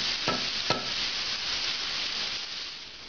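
Vegetables softening in a pan over medium-high heat for ossobuco give a steady, close frying hiss, with two quick stirring scrapes near the start and no talk.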